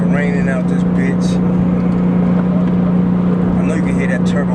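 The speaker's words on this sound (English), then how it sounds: "I know you can hear that turbo engine roaring." A Porsche 911 Turbo drives in the rain with its engine making a loud, constant, steady drone from inside the cabin, with brief speech-like sounds occurring over it.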